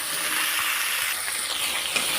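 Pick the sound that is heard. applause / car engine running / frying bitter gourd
frying bitter gourd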